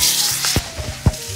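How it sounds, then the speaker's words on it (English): Butter sizzling in a hot pan with steak, rosemary and garlic: a steady bright hiss with a few soft thumps and scrapes of stirring, loud and close. "I think it's time to put the butter in"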